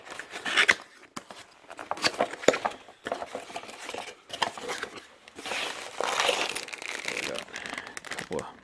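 Packaging crinkles and rustles in uneven bursts as lift kit parts for a 2010 Nissan D22 Navara are unboxed close by, with scattered clicks and light clatter.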